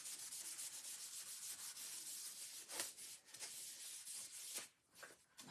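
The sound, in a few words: rubbing and buffing wax onto a paper stencil craft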